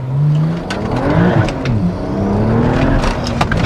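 A BMW E92 with an N54 engine and hybrid turbo accelerating hard, the engine note climbing and dipping through shifts, loud and close from inside the cabin.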